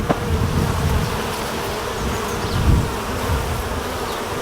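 Africanized honey bees swarm around an opened hive during a re-queening check, a dense, loud, continuous buzz that fills the whole stretch, with no speech.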